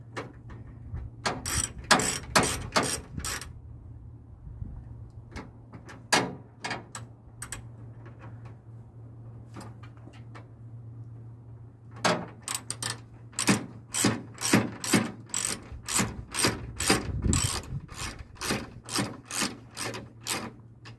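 A ratchet wrench clicks as a radiator mount is tightened on a 1981 Mustang during a new aluminum radiator install, with bursts of crisp, close ratcheting separated by pauses, then a long steady run of clicks near the end.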